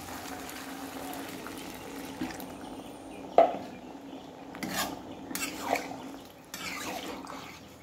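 Water added to a pot of cooking taro and vegetables, then stirred, with quiet pouring and a few clinks and scrapes of a utensil against the pot at close range.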